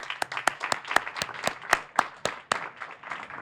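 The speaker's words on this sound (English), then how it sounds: "Let's give them a round of applause." A small crowd at a housing grand opening applauds with quick, dense handclaps throughout.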